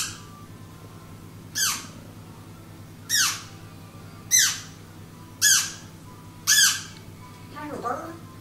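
A baby bird squawks five times, close and loud, at a steady pace about one and a half seconds apart. A fainter, lower call follows at the end.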